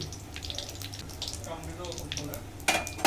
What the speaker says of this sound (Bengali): পটল ভাজা তেলে দিয়ে দিচ্ছি তেজপাতা